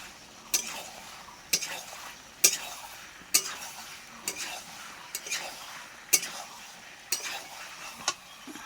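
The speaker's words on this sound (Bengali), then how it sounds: "ভেজে রাখা আলুগুলো এখন দিয়ে দেবো।" Fried potatoes are added to cooking meat and stirred in a pan, a spoon striking the pan in regular clanks about once a second over a soft sizzle.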